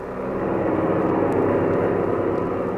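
A steady, loud aircraft engine drone fills the scene, a plane cruising at 5,000 feet in a radio drama, holding an even roar throughout with no talking.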